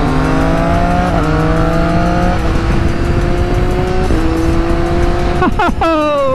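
A Ducati V4 and a Triumph Street Triple ride together on an evening outing, engines revving loudly as the quick shifters click through rapid upshifts, with the pitch stepping down at each shift and a sharp rev flare near the end.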